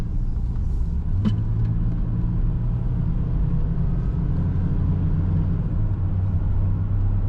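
A 1992 Ford Thunderbird coupe driving smoothly, heard as a steady low engine and road drone from inside the car, with a faint trace of tire vibration and no talking.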